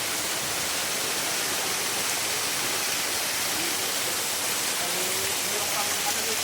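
A hidden waterfall in Masbate pours in a constant dense rush of falling water, steady and fairly close throughout.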